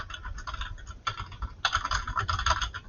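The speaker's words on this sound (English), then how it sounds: "so if I just type in" Someone types on a computer keyboard in a quiet room while adding a book citation; a steady patter of close keystrokes, pausing briefly around a second in and then resuming more loudly.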